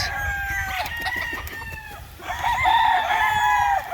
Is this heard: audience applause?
no